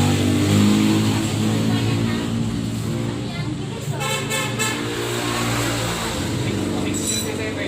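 A car engine on a test run after an overhaul, idling with a steady low hum that stays loud throughout. A few short rising revs and honk-like tones rise over it, with faint voices in the background.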